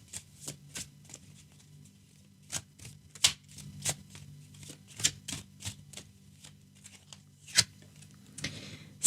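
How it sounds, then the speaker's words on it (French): Tarot cards shuffled and drawn by hand, a run of crisp slapping riffles and soft flicks at an irregular pace over a low steady hum, close and fairly quiet with no talking. "je vais d'abord tirer une carte du tarot"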